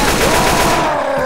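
Rapid automatic gunfire aimed at a Tank in Left 4 Dead 2, a loud continuous burst of fast rhythmic shots over about a second.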